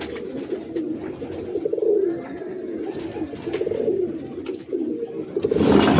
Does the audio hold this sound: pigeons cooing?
yes